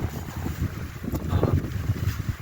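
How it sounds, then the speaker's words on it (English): Gusty outdoor wind buffeting a microphone on a hiking trail, low rumbling thumps and rushing noise rising and falling throughout, fairly loud and close with no other clear sound. "Again, excuse the wind."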